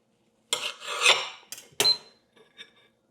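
A knife slicing through a butter diet snack on a plate gives a few short scraping strokes with brief sharp clinks of metal on the plate, close and clear against silence.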